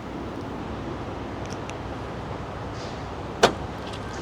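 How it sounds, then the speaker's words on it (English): A Toyota MR2's boot release solenoid fires once with a short, sharp clunk, set against a low steady background hum with a few faint clicks before it. "There's a little solenoid here that opens the boot."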